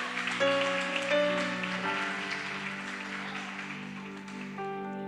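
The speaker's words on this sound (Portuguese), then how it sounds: "Dá um aplauso forte ao Senhor por isso." Church congregation applauding in a steady, continuous wash of clapping, heard beneath sustained keyboard or organ chords that ring throughout.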